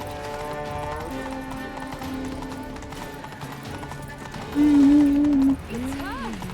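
A horse's hooves clip-clop at a gallop through a town in The Witcher 3, steady and mid-distance under game music, with a voice calling out over the ride.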